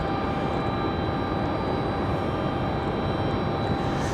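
A steady, loud jet roar from an airliner at Raleigh Durham International Airport fills the air without a break, broad and constant, with no voices over it.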